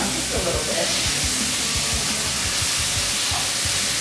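Vegetables and macaroni hiss and sizzle in a pan over a lowered flame while being stirred, steady frying noise with repeated soft scraping knocks of the spoon, close and fairly loud.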